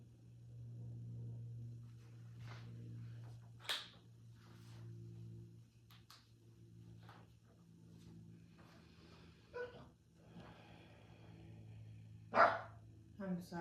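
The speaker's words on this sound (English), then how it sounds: "I'm sorry if you can hear my dog." A pet dog barks in a quiet indoor room, several sharp separate barks spaced out over a low steady hum.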